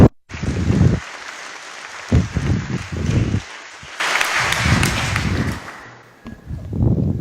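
Conference audience applauding to welcome a speaker, loud close clapping that comes in bursts with short gaps and swells near the middle before tapering off.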